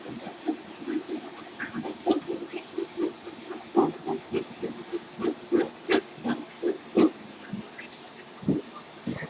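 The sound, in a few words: toilet fill valve refilling the tank with water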